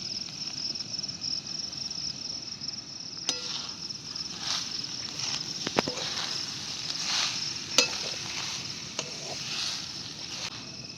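Freshly grated coconut stirred and dry-roasted in a pan over a low flame for coconut barfi, with soft continuous scraping, faint sizzle and occasional sharp clicks of the spoon against the pan, close up.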